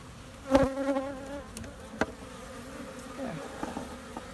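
Honey bees buzz close by around a hive feeder, their droning hum rising and fading as individual insects fly past, fairly quiet with a few soft knocks and no speech.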